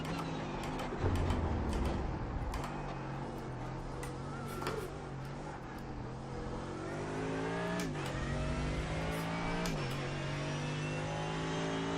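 Race car engine in the sim racing game iRacing, a loud sustained drone with rising and falling revs, throttle blips and gear shifts across the lap, with no talking.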